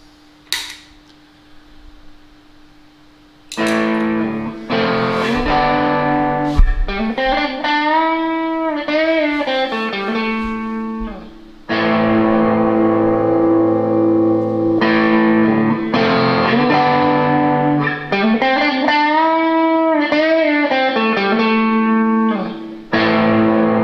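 Electric guitar played through a Harley Benton Vintage Overdrive pedal, loud overdriven notes and chords with bends and sustained tones, after a short quiet hum and a plucked note at the start.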